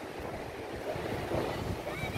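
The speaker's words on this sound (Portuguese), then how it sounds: "marzão bem azulzão, água bem bonita" Ocean waves wash over a rocky shore with dark sand at Las Grutas beach in Argentina, a continuous soft surf hiss with wind buffeting the microphone.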